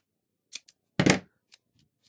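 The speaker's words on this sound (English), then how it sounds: "I use my Fisker scissors for that" Fiskars non-stick scissors cutting card: a few short close snips, one longer crunchy cut in the middle, with light scraping between, no talk.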